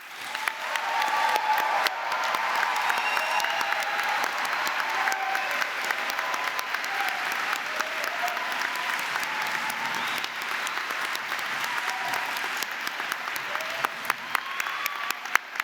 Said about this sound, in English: I am sure you would like to join me in giving them a warm round of applause